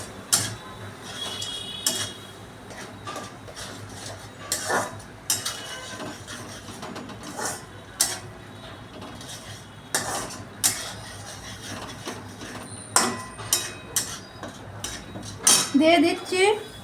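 A spoon clatters and scrapes in a pan, stirring spices into a potato and jackfruit curry, with repeated metallic knocks spaced every second or two, close and fairly loud.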